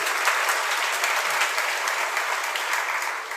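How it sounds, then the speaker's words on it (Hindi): A gathered congregation at a Jain sermon by Acharya Vidyasagar at Shirpur claps in a dense, continuous burst, loud and steady for a few seconds before tapering slightly at the end. "उसकी तालियां बज रही आज।"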